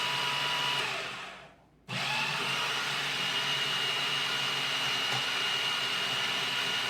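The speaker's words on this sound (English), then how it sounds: "We're just mixing. But by using the food processor" A food processor mixes cake batter for a birthday cake in a home kitchen, a steady loud motor whir that cuts out briefly, then resumes and runs on continuously.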